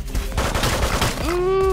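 Machine gun fire in the Megabyte Punch video game: a brief, loud burst of rapid shots that gives way to a rising electronic tone at the end.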